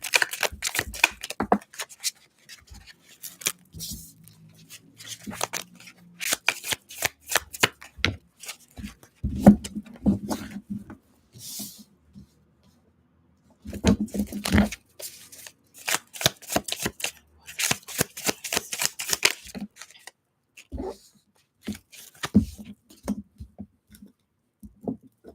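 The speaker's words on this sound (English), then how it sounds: "I don't even think I could shuffle all these." A large deck of new tarot-style reading cards being shuffled by hand, with bursts of close, crisp riffling and flicking clicks broken by quiet gaps, mostly without talk.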